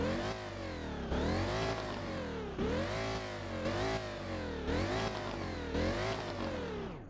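Supercharged car engine in the video game Driving Empire revving repeatedly, about six rising rev bursts with supercharger whine, loud and steady with no talking.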